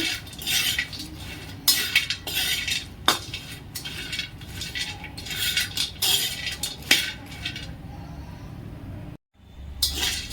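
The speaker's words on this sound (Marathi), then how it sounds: "हलकी हलकी खारीक पण परतून घ्यायची" Dry dates roasting in a pan while being stirred, a series of bright scraping and clinking strokes of a spoon against metal in uneven bursts, close and moderately loud, ending briefly in near silence.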